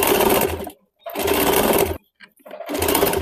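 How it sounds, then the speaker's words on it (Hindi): A sewing machine stitches a folded neckline lining in three close, loud runs of rapid whirring, separated by brief stops. "धीरे धीरे इस प्रकार से फोल्ड करते हुए इसमें मशीन चला देंगे।"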